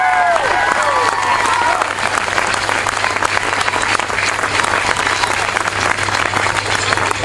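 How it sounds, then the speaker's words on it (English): Loud, sustained applause for the Kinawley team at a GAA trophy presentation, dense clapping from a close crowd with some faint cheering mixed in, continuous and even for several seconds. "they deserve a huge round of applause here this evening"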